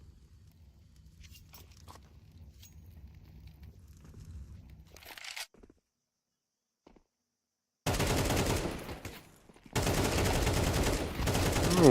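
Gunfire sprays in a Counter-Strike match on Dust 2: after quiet movement and a silent gap come two long, loud bursts of rapid shots, separated by a short pause. There is no audible commentary.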